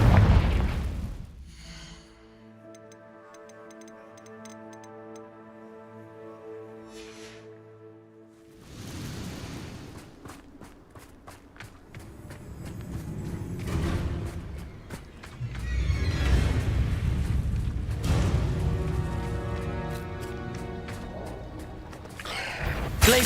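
A Confringo fire spell explodes in Hogwarts Legacy, a deep booming blast after a tonal musical stretch, followed by rumbling bursts and further heavy impacts over continuing game sound.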